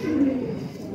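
Pigeons on a home rooftop give a low, throaty coo that swells and fades over about a second, close and fairly loud, with no talk over it.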